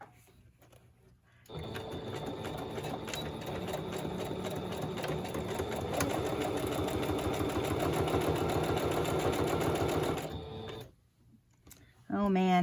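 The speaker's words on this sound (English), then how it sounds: "I'm going to zigzag right here" A sewing machine stitches a zigzag in one sustained run of rapid mechanical whirring and clatter lasting several seconds, starting and stopping abruptly, with a voice briefly heard just after.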